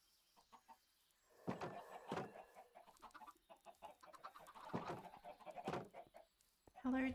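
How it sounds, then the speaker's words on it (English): Blocky Minecraft chickens cluck in short, soft bursts under a player's lively commentary, with a louder cluck close by near the end. "Chickens that weren't invited to the party."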